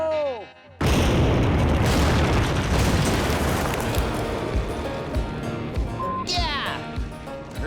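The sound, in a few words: explosion set off in the bush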